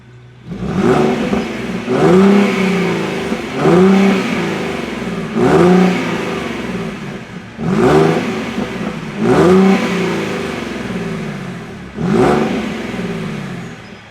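A Ford Mustang engine revs repeatedly, loud and close, with rising and falling surges every second or two over a rumbling idle and no talking.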